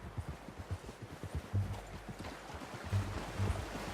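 Steady clip-clop of horse hooves at a trotting rhythm in the video game Red Dead Redemption 2, fairly close, over a soft wash of ambient noise; no speech.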